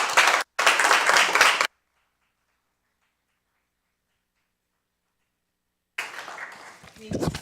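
Audience applause for two candidates at a Montgomery County NAACP and League of Women Voters forum for Commonwealth's Attorney and Sheriff: a bright burst of clapping that stops for a long silence before noise resumes.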